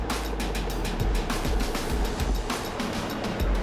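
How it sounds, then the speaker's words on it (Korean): Rough winter sea surf heard from a fishing boat, a steady loud rush of water with repeated heavy wave surges and low rumbling throughout, no voices. "파도는 여전히 거세지만"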